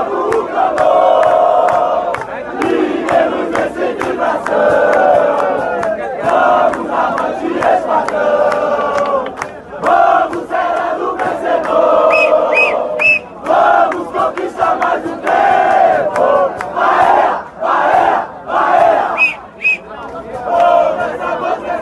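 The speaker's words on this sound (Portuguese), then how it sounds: "A torcida do Palmeiras cantando o hino do Bahia." Palmeiras fans in a stadium sing the Bahia anthem together, a loud, dense mass of voices chanting in rhythm with occasional whistles and shouts over the crowd roar.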